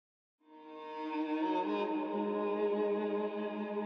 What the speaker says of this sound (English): So we've got a much lower erhu, which is way more airy and kind of in the back of the track.